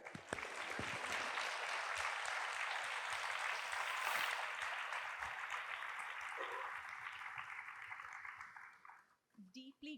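Sustained applause from a large audience, a dense steady wash of clapping that fades out toward the end.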